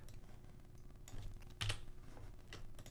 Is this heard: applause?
no